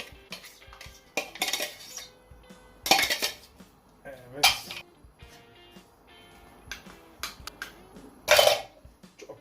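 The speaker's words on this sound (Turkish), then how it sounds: "Şu hazırladığımız karışımı tavamızın içine atıyoruz." Hazelnut mixture tipped into a Teflon pan, heard as a handful of sharp clattering metal knocks and scrapes of utensil on pan, spaced irregularly, with quiet low-level kitchen noise between them.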